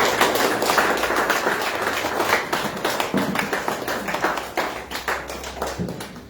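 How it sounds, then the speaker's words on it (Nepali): A church congregation at a Lord's Supper service claps together in thanks, a steady run of close, fairly loud hand claps with some thumps mixed in, fading slightly toward the end. "केवल उहाँलाई हामी ताली बजाएर धन्यवाद दिँदछौँ"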